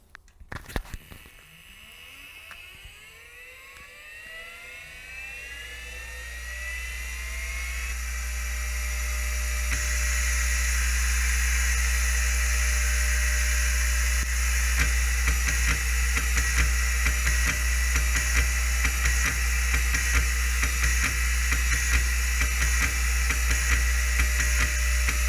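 PDP-11 computer equipment spinning up at startup: a rising whine climbs over several seconds, then settles into a loud, steady whirring hum with constant motor and fan noise, no voices.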